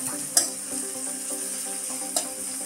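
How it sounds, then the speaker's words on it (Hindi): Chopped onions frying in a pan for a matar mushroom curry, a continuous bright sizzle close by, with a couple of sharp clinks of a spoon stirring against the pan. "और इसे हम हल्का सा भून लेंगे"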